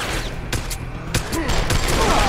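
Gunshots ring out in Deus Ex: Human Revolution, sharp separate cracks spaced irregularly over a couple of seconds, loud and close against a steady game background.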